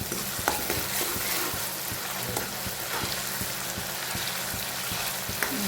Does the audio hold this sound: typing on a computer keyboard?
no